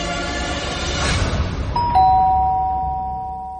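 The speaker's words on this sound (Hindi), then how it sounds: "दरवाजे की घंटी ने उस बच्चे को हर्ष की मार से बचा लिया" A doorbell chimes a two-tone ding-dong, ringing out clearly and fading over a low background hum.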